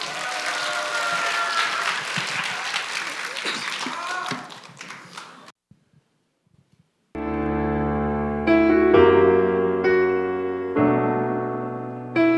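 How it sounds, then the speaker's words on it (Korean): A church audience applauds a youth group at a summer event, clapping loudly and steadily for several seconds before it fades into near silence. Sustained musical tones then begin as accompaniment starts. "힘찬 박수 부탁드리겠습니다"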